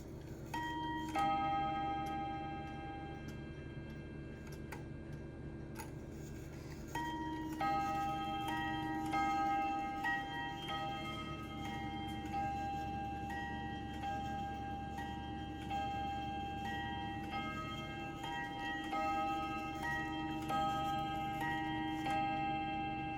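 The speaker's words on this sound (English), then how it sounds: "Now I'm gonna go ahead and show you the chimes. It's one of those Bim-Bam clocks," A Bim-Bam wag-on-the-wall clock with cuckoo clock weights, steady ticking under ringing two-tone chimes that strike repeatedly and linger, close and clear with no talking.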